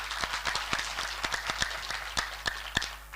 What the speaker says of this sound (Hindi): एक बार जोरदार सब महात्माओं के लिए ताली बजाइए